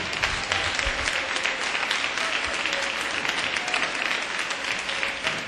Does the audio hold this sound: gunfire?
no